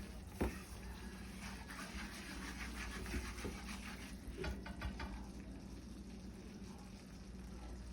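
Gravy bubbles and sizzles in a pan over nearly high heat, a dense, continuous frying crackle with occasional stirring scrapes and a sharp clank near the start.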